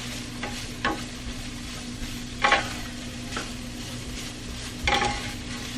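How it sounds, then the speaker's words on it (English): Cabbage cooking down in a pan, a quiet steady sizzle with a low hum, broken by several scraping stirs of a utensil at irregular intervals. "I just cook the cabbage down"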